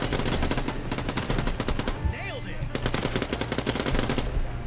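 Rapid automatic gunfire from the video game Quantum League crackles in dense, loud bursts, with a brief lull and a rising electronic sweep in the middle before the firing resumes.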